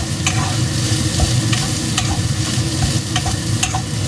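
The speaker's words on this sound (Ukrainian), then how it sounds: "Постійно перемішуємо." Chow mein with egg and bacon stirred in a hot frying pan, a steady close sizzle with repeated sharp scrapes and clacks of the utensil against the pan, no talking.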